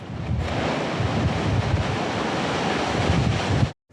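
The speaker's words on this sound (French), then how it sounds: "Les vagues se succèdent, entraînées par des vents à plus de 100 km/h." Waves crash onto rocks on the Finistère coast in winds over 100 km/h, a continuous roaring wash of surf with heavy wind buffeting the microphone, cutting off abruptly near the end.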